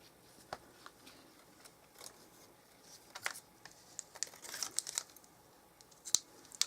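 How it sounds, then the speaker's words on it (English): Soft crinkling and peeling of a glue dot being pulled from its backing for card making, faint close-up rustles and small ticks scattered irregularly over several seconds. "So all I'm doing is taking a glue dot."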